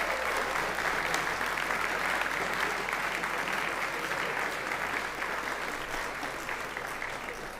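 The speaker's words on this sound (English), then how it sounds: "Let's give another round of applause for our women's softball team." An awards event audience applauds a women's softball team, a full room of steady, dense clapping that carries on for several seconds and gently fades near the end.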